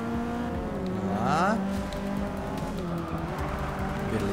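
Race car engines drone steadily with a brief rising whine and tyre noise during an overtake on a Nissan in the video game Forza Motorsport 6, loud and continuous throughout.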